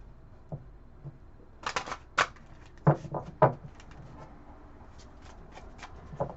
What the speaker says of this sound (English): I'm just pre-shuffling these guys.